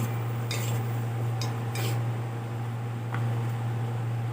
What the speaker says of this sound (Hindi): फिर हिलाइए चम्मच को लेकर और पकने दीजिए पूरा पेस्ट जैसे बनने को